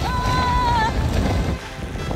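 Wind buffets and rumbles across the microphone in a steady, loud roar, with a faint thin whistling tone early on, out in the mountains of Kazakhstan.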